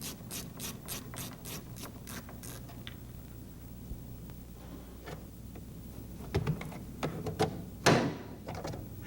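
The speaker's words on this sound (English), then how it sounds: "This hidden screw under the armrest is removed." Close, quiet ratcheting clicks as a hidden screw under the armrest of a Mercedes-Benz Model 202 is removed, rapid even clicks at first, then scattered mechanical taps and rubbing.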